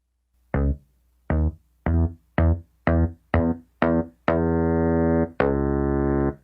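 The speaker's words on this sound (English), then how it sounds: "Now I have a little distortion preset here." A synthesized bass run through a distortion preset plays a series of short, evenly spaced buzzy notes, then two longer sustained ones, loud and alone with no talking.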